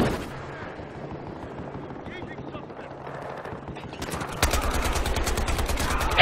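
Gunfire in the video game Battlefield Hardline, a dense run of rapid shots that grows louder and sharper near the end, with a player talking over the action.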